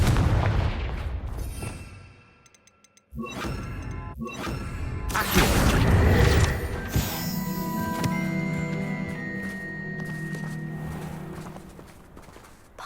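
Confringo fire spell blasts in Hogwarts Legacy on PS5: a few sharp, loud fiery bursts with a roaring rumble, then ringing tonal game sounds that fade under a sustained hum.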